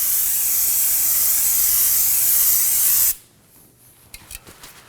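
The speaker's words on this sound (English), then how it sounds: "We're going to be spraying some brake parts cleaner to get rid of the machining oil that's on the rotor itself." An aerosol can of brake parts cleaner blasts a steady, loud hiss onto the rotor of a 2016-2020 Kia Sorento 2.4L for about three seconds, then cuts off into quiet with a few soft handling clicks.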